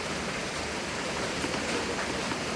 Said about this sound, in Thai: บรรยากาศฝนตกครับผม ฝนตกฝนตก